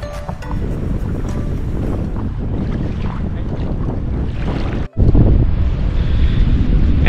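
Strong wind gusts buffet the microphone on a river during a paddleboard outing, a loud, continuous roar with rushing water, briefly cutting out before surging back even louder.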